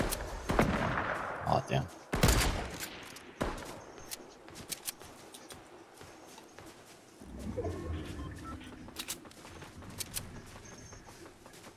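Gunfire in the Fortnite video game during a trios match: several sharp shots and bursts ring out near and loud, with quieter shots scattered through the middle and people talking over the action.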